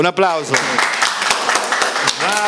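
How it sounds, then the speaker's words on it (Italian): An audience bursts into brisk applause, a dense run of hand claps lasting a couple of seconds, with a voice speaking at the start and end. "Un applauso."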